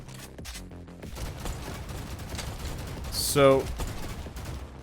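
Rapid automatic gunfire from an SMG or assault rifle in a first-person game, a dense stream of close shots running throughout, with a sharp whooshing swell near the end and someone briefly talking over it.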